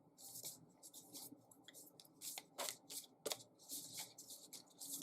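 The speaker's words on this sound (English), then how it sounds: "these cards are hard to shuffle, so sometimes a lot of them come flying out" A deck of stiff tarot cards is shuffled by hand, giving soft, quick riffling and slapping bursts close by at low volume, with a few cards spilling out.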